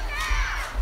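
A crowd of about 3,000 student climate protesters on the steps of Melbourne's old Treasury building shouts together in a brief, dense roar of many voices.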